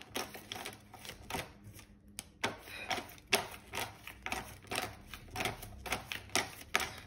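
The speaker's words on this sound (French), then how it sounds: "Je bats devant toi les cartes" Tarot cards being shuffled by hand, producing a series of quick, crisp riffling snaps and taps in an irregular rhythm, close and fairly faint, without talk.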